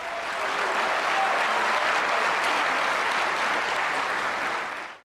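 A Muslim audience at a Zakir Naik talk breaks into sustained, dense applause with some cheering, loud and steady throughout before fading out at the very end.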